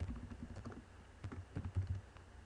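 A name typed on a computer keyboard, with a quick, uneven run of soft key clicks that sound close but quiet, and no voices.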